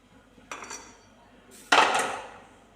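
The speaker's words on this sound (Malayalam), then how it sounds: "നമുക്കിന്ന് താളിച്ചിടാൻ വേണ്ടിയിട്ടുള്ളൊരു ചീനച്ചട്ടി വെക്കാം അടുപ്പത്തേക്ക്" A metal kadai set down on a kitchen stove for tempering, giving two clanking metallic knocks about a second apart, the second louder and ringing briefly.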